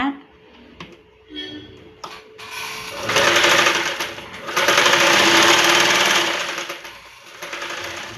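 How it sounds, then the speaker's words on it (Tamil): A sewing machine stitches neck piping in two long, loud runs of rapid needle chatter, with a few brief taps and starts beforehand; a voice talks at the start. "இந்த ஒரு ஓரத்தை மட்டும் மடக்கி தைச்சிக்கோங்க"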